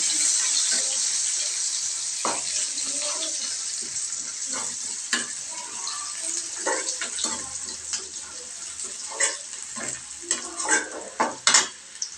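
Garlic and onion sizzle steadily in a hot pan while a spatula stirs and scrapes, with scattered clicks and knocks over a continuous close frying hiss.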